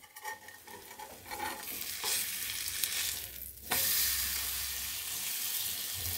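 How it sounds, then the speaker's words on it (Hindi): Besan-coated bread toast frying in butter on a pan gives a soft, continuous sizzle with some shuffling and handling noise, then a louder surge of sizzling partway through as the slice is flipped. "अब हम यहाँ पे ऊपर में थोड़ा सा बटर डाल देते हैं और इसे पलट देते हैं"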